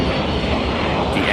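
Engines of an Airbus A310 airliner strain at full power in a steep, nearly vertical climb, a loud dense continuous roar with a voice speaking over it.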